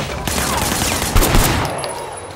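Video game gunfire in Sleeping Dogs, a rapid burst of shots at moderate distance lasting a couple of seconds, with a sharper louder crack near the middle.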